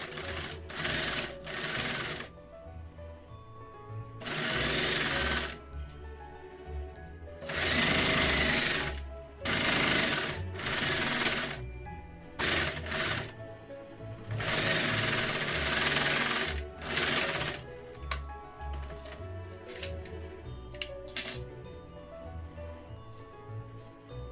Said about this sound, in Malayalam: ഇനി നമുക്ക് തയ്ക്കാൻ തുടങ്ങാം. ആദ്യം തന്നെ നല്ല വശവും കൂടി ചേർത്ത് വെച്ച് പുറകുവശത്ത് തയ്ക്കുക.